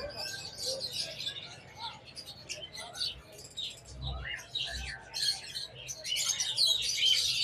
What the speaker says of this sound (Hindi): ये सारे तोते रखे हुए यहाँ पे, पहाड़ी तोते, ऑस्ट्रेलियन तोते, फ्रेंचीज